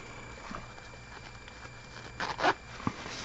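Zipper on a small toy duffel bag with foam padding, faint quiet handling at first, then a couple of short raspy zipping pulls near the end.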